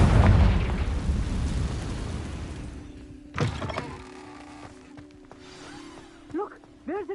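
The Confringo blasting spell in Hogwarts Legacy erupts as a loud, rumbling explosion that fades into debris and a sharp crack, followed by lighter magical chimes and clatter.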